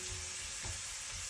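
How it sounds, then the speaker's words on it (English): Pork fat frying slowly in oil gives a faint, steady sizzle with soft crackles and no voices. "I'm gonna let this slowly fry to let the oil out of the fat."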